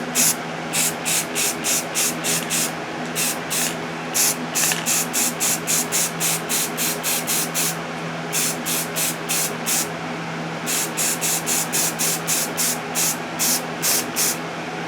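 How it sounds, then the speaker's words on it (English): Short bursts of a rattle can spraying flat black base coat paint onto a build panel, rhythmic hissing pulses with tiny gaps between them, close and steady throughout. "I'm just going to base coat this in black using a standard rattle can flat black"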